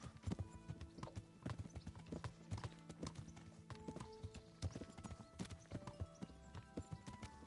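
Horse hooves clip-clop in a steady, close trotting rhythm in the medieval game Kingdom Come, with a low ambient drone and occasional tonal sounds beneath, and no talk over the hoofbeats.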